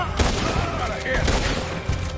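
Rapid gunfire in the video game Red Dead Redemption, a dense, loud fusillade of overlapping shots and booms running throughout, with a voice talking over it.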